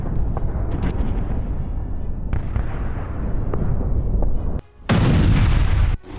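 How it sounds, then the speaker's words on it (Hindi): A Lancet drone strike hits a Bohdana artillery system, giving a string of sharp booms and blasts over a rumbling background, then a sudden heavy, loud burst near the end. "लेंसन ड्रोन से हमला हुआ है।"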